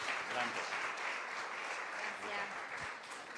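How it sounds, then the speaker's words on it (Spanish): An audience applauds at a church women's gathering, a continuous soft wash of clapping heard from a distance, with a faint voice underneath. "La recibimos también con un aplauso"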